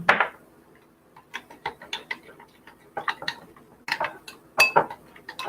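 Dill being mixed into food with a utensil, a string of irregular light clinks and taps against a bowl, close and fairly quiet.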